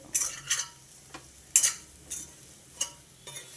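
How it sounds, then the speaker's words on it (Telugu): Bitter gourd pieces with onion and chili powder being stirred in a pan over a low flame, several light scraping strokes of a spoon and a soft sizzle, close and fairly quiet. "ఇప్పుడు కొంచెం స్లోగా వేగాలన్నమాట కారంతో పాటు"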